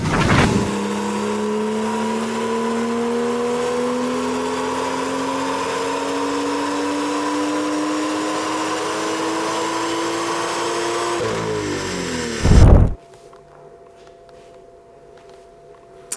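A BMW M2 with an N55 engine revs hard on a dyno, its drone climbing steadily in pitch for about eleven seconds before a brief surge and sudden cut to quiet. The sound is loud and close, with no talk.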